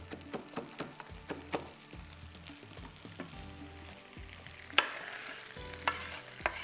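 A spoon stirs cooked rice with chopped green chilies and fresh coriander in a pot, giving a rhythmic series of scraping knocks against the metal over a soft sizzle, with a brief hiss later on.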